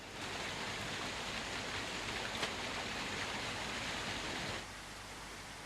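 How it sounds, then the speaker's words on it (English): Steady rain falling in a 1974 English period drama setting, a dense, even hiss throughout that drops slightly in level near the end, with no voices. "Staring at the rain won't stop it from falling,"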